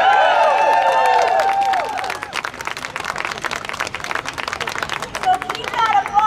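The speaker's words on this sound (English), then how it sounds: "So keep that applause going" Crowd applause and cheering at an outdoor rent strike rally and march against rent increases, loud and dense at first, then settling into a steadier, softer clapping with chatter and calls mixed in.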